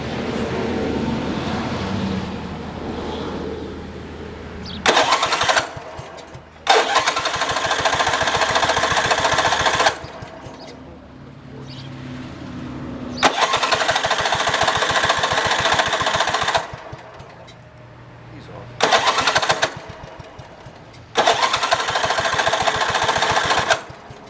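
A 1971 Project 110 engine cranks and runs in repeated bursts, each a loud, rapid mechanical clatter broken by short pauses, heard close by with no talk.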